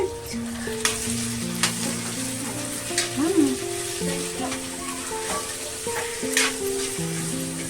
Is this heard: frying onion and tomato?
yes